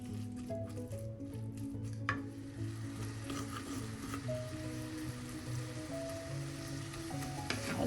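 Onions with crushed ginger and garlic sautéing in a pan for a home-style crab curry, a steady close sizzle with soft squishy stirring scrapes throughout, while a low background tone hums beneath and no one speaks.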